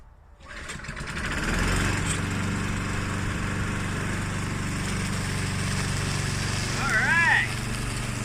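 A lawn mower with a jury-rigged pull start catches after a brief quiet moment and then runs steadily, a loud continuous engine drone close by, with a short whistling squeal near the end.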